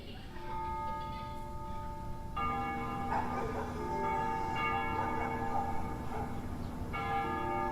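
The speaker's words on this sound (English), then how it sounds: "They ring the bells here at dusk to honor the liberation of the capital." Church bells ring at dusk in the combat flight game Ace Combat Zero, several resonant tones sounding in overlapping strikes with long sustained hums, moderately distant over a soft ambient bed.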